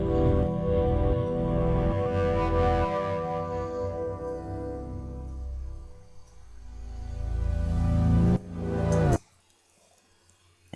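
Two layered synth pads, sidechained and filtered, swell with dense sustained harmonics that pulse and gradually thin. A sharp rising burst comes near the end before the sound cuts to near silence.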